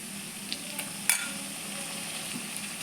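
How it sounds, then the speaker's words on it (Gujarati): Tomatoes going into a hot pan of masala mung beans bring a low, steady sizzle with a few small clicks and one sharper spatter, fairly quiet and close, no one talking. "હવે આપણે એમાં ટામેટો ઉમેરીશું"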